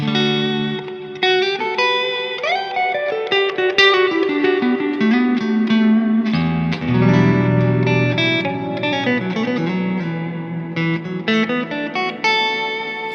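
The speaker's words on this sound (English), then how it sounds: "I have a good amount of reverb, and I could even go a little bit more than that" Electric guitar drenched in heavy reverb, sustained chords and melodic notes ringing out and blending into a lush wash while each note stays distinct, played continuously and loud with no talking.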